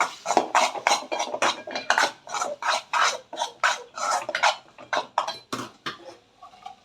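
A spoon scrapes and stirs turmeric, fennel and chilli powders sautéing in a pan for cauliflower kootu, a steady rhythm of close, rasping metal strokes about twice per second, no voices.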